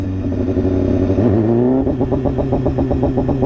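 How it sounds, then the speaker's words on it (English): BMW S1000RR superbike fitted with an SC-Project exhaust, rev-limited pit lane mode: a close, loud engine rises, then bounces in rapid rhythmic pulses against the limiter. "It's pit lane mode, SC Project exhaust."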